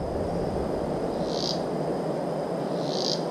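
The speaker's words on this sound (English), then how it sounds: "Cicada. Sounds like someone grinding their teeth." A cicada in the forest of Maquipucuna Reserve, Ecuador, gives two short, intense buzzing bursts spaced about a second and a half apart over a constant, dense hiss of insect and forest ambience.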